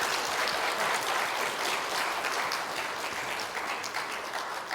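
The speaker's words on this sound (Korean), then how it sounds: "우리 격려의 박수 한번 부탁드리겠습니다." Sustained applause from a church congregation at a morning worship service, a steady dense patter of many hands clapping at even loudness throughout, with no voices over it.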